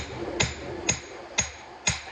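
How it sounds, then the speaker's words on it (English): Forging hammer striking Damascus steel on an anvil while shaping a kitchen knife bevel: four evenly spaced sharp ringing blows, near and clear, over low shop noise. "when I strike, I'm not physically pulling the hammer towards me"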